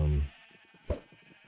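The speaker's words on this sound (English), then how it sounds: "we have purple and magenta sheep now" A Minecraft sheep gives a short bleat, loud and close, fading quickly into quiet background sounds with a faint thump afterward.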